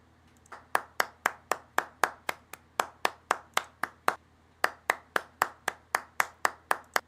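A single pair of hands claps steadily about twenty times at an even rhythm, sharp and close, with a brief pause partway through and no talking over it.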